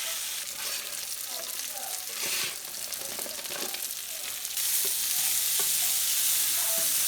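Onions sweating in a hot pan give off a steady close sizzle, with a scrape or two of stirring now and then. The frying grows louder and denser toward the end, and no one speaks.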